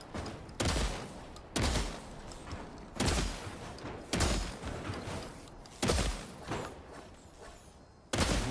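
Gunshots in Death Stranding 2, about seven sharp, heavy reports spaced roughly a second apart, each with a short echoing tail, fairly quiet overall and with no talking.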